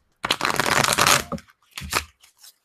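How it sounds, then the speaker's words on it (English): A Mesquite Tarot card deck is shuffled on a lap: one long riffling burst of flicking cards, then two shorter shuffles after a pause, crisp and close with no talk. "This deck shuffles beautifully."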